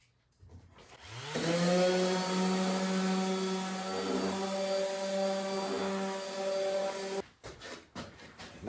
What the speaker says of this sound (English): And when you think you have it all sanded, you can sand some more.